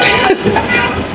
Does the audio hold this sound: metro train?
yes